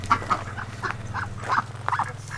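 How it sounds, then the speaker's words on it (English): Ducks that share a pen with chickens at a farm in Jerome, Arizona give a run of repeated nasal quacks, fairly close, over a steady low hum. "their ducks hang out with their chickens"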